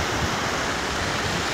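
River water rushing steadily and close, a dense broadband wash with no pauses or talk throughout.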